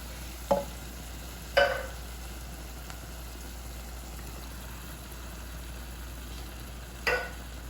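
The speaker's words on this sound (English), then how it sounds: "Okay, now the onion has become really soft, so it's time to add in the peeled tomatoes." Peeled tomatoes go into a pot of softened onions for a pasta sauce: three sharp spoon-on-pot clatters over a low, steady simmering hiss, with no talking.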